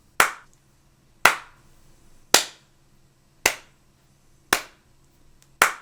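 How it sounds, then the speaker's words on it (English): Six slow, evenly spaced single claps, a sarcastic slow clap, ring out sharply, about one per second, with nothing else in between. "sarcastic slow clap."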